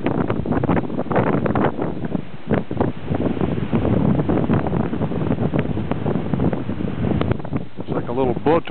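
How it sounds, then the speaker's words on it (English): Wind gusts of about 40 miles an hour roar and buffet against the microphone without letup over water, a loud, rough rush of noise throughout. "Wind gusts are about 40 miles an hour."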